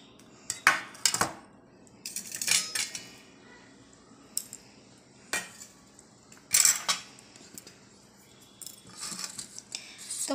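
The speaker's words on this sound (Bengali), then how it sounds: "এই দেখো মা অলরেডি ভাত বাড়তে আরম্ভ করে দিয়েছে" A mother spoons rice, greens and lentils onto plates for lunch, making scattered metallic clinks and scrapes of a serving spoon against dishes, close by and with no talking.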